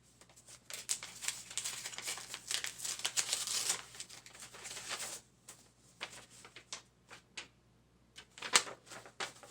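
A paper envelope is torn and opened close by, giving bursts of dry crinkling, rustling and tearing over several seconds, loud at times and then quieter, with no talking.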